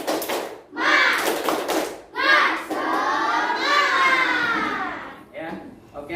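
Classroom of students does a rhythmic clapping cheer, bursts of claps and children's chanting voices mixing together in loud, close bursts with short pauses between them.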